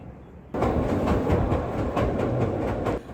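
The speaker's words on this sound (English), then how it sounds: "We took the Glacier Express, the slowest express train in the world, from Zermatt to St. Moritz." The Glacier Express train runs through Switzerland between Zermatt and St. Moritz, a loud steady rumble of rolling wheels with faint rhythmic clatter, starting abruptly and holding close and continuous.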